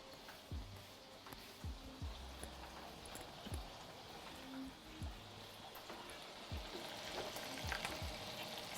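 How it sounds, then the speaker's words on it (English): Food frying in a pan at home gives a steady, soft sizzle throughout, broken by scattered small pops and crackles at a moderate distance, with no voices over it. "See, now I hear some good popping and sizzling."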